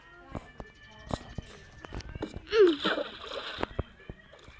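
A big splash and churning water as a character wades across a river in a video game, a burst of sloshing rising mid-clip over background game sounds and voices.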